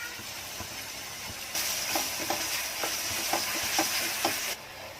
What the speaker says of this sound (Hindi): अब इसको अच्छे से मैंने 5 मिनट मसाले को भून लिया